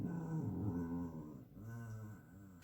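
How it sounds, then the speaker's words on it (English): A dog growls and whimpers softly while napping indoors, a low continuous grumble with whiny upper tones, easing briefly before two more drawn-out whimpering growls. "Sorry, that's my dog. They're napping."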